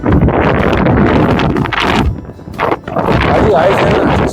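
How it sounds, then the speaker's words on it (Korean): Strong wind roars across a snowy mountain ridge at Seonjaryeong in March, buffeting the microphone in heavy continuous gusts with a brief lull partway through. "바람은 이렇게 심하게 불어도 그래도 춥지는 않습니다"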